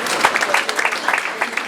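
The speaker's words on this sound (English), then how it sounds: "a very big hand clap for her" An audience at a school event on community policing claps. The applause is steady, dense and fairly close, and lasts the whole short stretch without a break.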